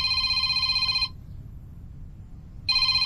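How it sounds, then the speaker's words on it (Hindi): An electronic phone ringtone chimes in a bright burst, goes quiet for under two seconds, then starts ringing again. "फोन आवत है"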